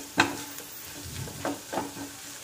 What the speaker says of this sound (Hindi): इसको अच्छे से धीमी आंच में अच्छे से भून लेंगे